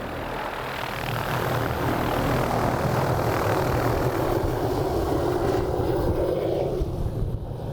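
A helicopter flies among the mountains near Haast, New Zealand, producing a steady, loud, continuous engine and rotor roar with some wind buffeting throughout, without any talking.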